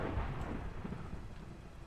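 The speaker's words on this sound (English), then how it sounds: "Apparently it is thunderstorm." Rumbling thunderstorm in the Minecraft video game, steady rain and a low thunder roll filling the background, fairly quiet, with no talking.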